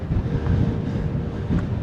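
Strong wind on the mountaintop of Slavnik, Slovenia, buffets the microphone with a continuous, loud, low rumbling roar that barely varies over the two seconds.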